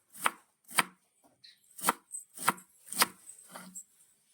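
A knife chopping cabbage finely on a board, seven crisp, evenly spaced strokes up close with no talk.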